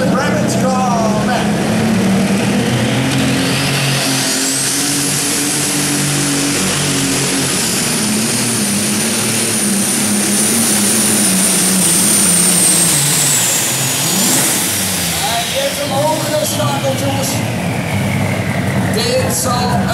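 A superstock tractor pulling machine roars at full power in the IJsselhallen arena at Zwolle, a loud engine with a high whining tone that sweeps up, holds and drops away as the run finishes, with commentary over it.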